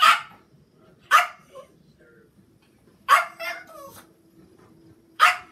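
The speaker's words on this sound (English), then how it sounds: "I'm really, really sorry about the dogs barking" Dogs barking in a home, several separate loud bursts spaced a second or two apart, with a longer double bark in the middle and quiet gaps between.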